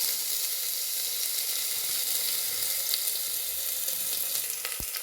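Crushed ginger, garlic and green chili frying in hot oil for a quick egg curry, a loud, continuous close sizzle with crackling pops and a short clink near the end.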